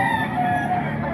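A gamecock rooster at a market crows once, loud and close, with a sustained strained call over faint background noise.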